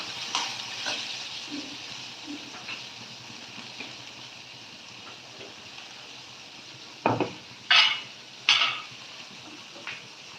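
Onions with a little salt sautéing in a pan, a soft steady sizzle with a few sharp stirring scrapes and clatters near the end.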